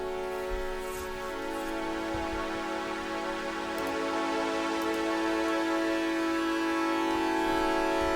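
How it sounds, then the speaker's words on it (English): Sustained synth string pad made from a saw wave, with a bright buzzy tone held steadily throughout and slowly shifting under automation, alone at a moderate level. "It's a saw wave turned into a string"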